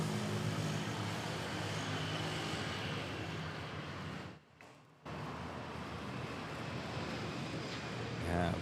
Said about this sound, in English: This Philippine Airlines A320 off to Cotabato